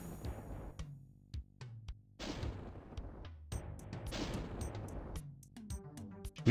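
Gunfire aimed at the player in the video game Doom TNT Revilution, with repeated sharp shots and booming blasts in clustered bursts and fairly loud, heavy reverberant roars between them, and no talk.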